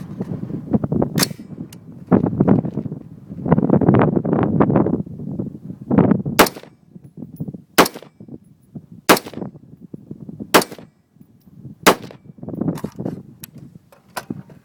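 An unsuppressed 5.56 heavy-barrel rifle with a muzzle brake fires about seven sharp, loud cracks at irregular intervals, each with a quick ringing tail, over gusty wind rumbling across the microphone.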